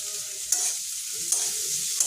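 Onions frying until browned in a pan with a little salt, a soft steady sizzle with a few brief scraping stirs at intervals, close and fairly quiet.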